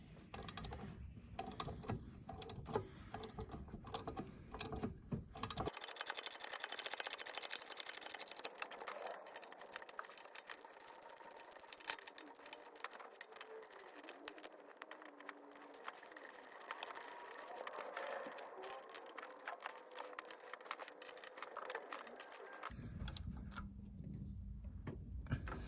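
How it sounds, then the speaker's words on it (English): Rapid ratchet clicking while turbo manifold bolts are tightened on a Jeep Patriot with a 2.0 TDI (VW/Audi 140 PD) diesel engine, a steady close-up stream of small metallic ticks lasting most of the stretch, with no talking. "Let's get this manifold bolted up, shall we?"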